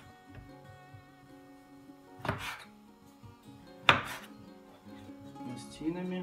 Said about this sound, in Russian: Нарезаем такими пластинами.